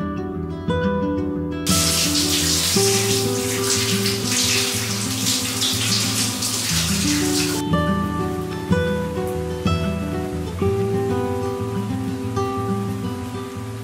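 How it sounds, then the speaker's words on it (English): Heavy rain pours down steadily on a cosy winter morning, a dense rushing wash with no talking, heard over soft sustained background music. "Just started pouring with rain"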